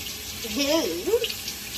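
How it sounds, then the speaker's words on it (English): Tap water runs steadily into a sink while a piece of food is rinsed before its skin is removed, a soft continuous hiss with a brief voice sounding over it. "So I'm gonna take a piece and then rinse it out."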